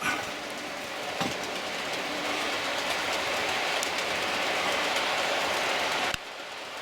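A model Class 66 diesel locomotive running on a model railway track, giving a steady rolling rumble with faint rail clicks that continues throughout at an even level before cutting off near the end.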